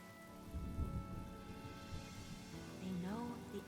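Rain falls steadily in a video game scene, a soft, continuous wash of drops with low rumbling beneath, faint and constant throughout.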